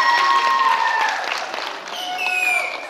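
Audience applause at a high school freshman ball in Focșani, a short burst of crowd clapping with cheering, tonal whistles or music riding over it.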